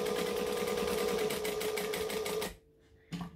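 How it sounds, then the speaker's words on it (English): A sewing machine stitches along the outside edge of a garment, running as a loud, steady, rapid whir for about two and a half seconds before stopping, followed by a brief restart. "So I'm going to stitch along the outside edge."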